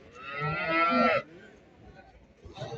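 A cow at a livestock market lets out a single loud, drawn-out moo lasting about a second, followed by low background market noise.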